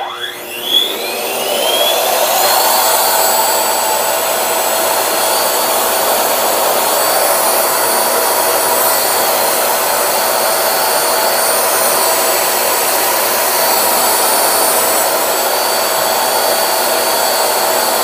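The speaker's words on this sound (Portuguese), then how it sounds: "Então vamos fazer o teste aqui e verificar a corrente com o aspirador sem o pico" Vacuum cleaner powered through an inverter from a 12.8 V LiFePO4 52Ah battery starts up with a rising whine, then runs as a loud, steady, close motor roar for the rest of the stretch.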